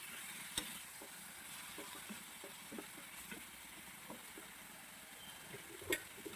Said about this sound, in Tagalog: Tapos gisa-gisay lang natin maigi.